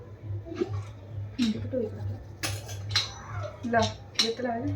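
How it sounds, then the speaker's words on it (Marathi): A pressure cooker lid is fitted onto a pot of masale bhat, with several sharp metallic clinks and scrapes close by while people talk throughout. "कुकरचं झाकण लावूया."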